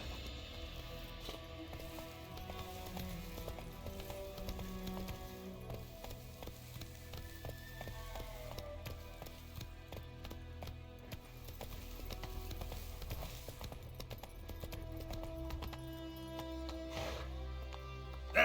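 Roach, a horse in The Witcher 3, trots steadily with a soft, regular clip-clop of hooves, quiet and under a layer of game music and ambience.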